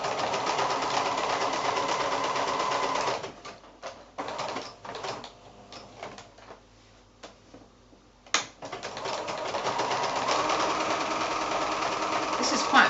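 A sewing machine runs a blanket stitch around an applique on a quilt-as-you-go block. It is a close, steady mechanical whir that pauses for a few seconds in the middle, with short bursts and a voice speaking, then starts up again.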